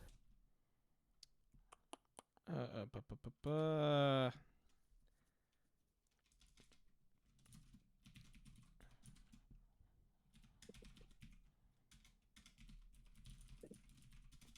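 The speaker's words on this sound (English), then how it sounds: "Almost done typing." Computer keyboard typing during an online FATE Core tabletop roleplaying session, bursts of quick, faint clicks with a brief tone, then scattered keystrokes under quiet talking.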